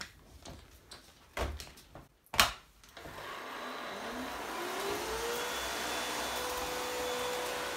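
A Hoover Discovery DS22G vacuum cleaner with its brush roller starts after a few knocks and bumps, then runs as a steady close whine and roar with a rising pitch sweep as the motor spins up.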